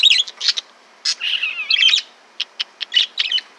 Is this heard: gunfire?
no